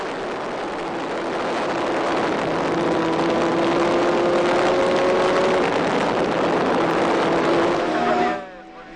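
From onboard a Dallara F307 single-seater on a hillclimb run in the French mountain championship, the engine screams loudly and steadily with rising pitch through the gears, then cuts back sharply near the end while a commentator speaks.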